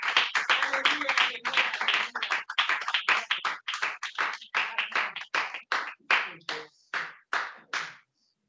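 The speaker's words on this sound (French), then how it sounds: "Applaudissons la présence du Seigneur" A congregation claps in rhythm at a Shabbat and Purim service. About two dozen crisp, close claps land in a steady beat that gradually spaces out, then they stop.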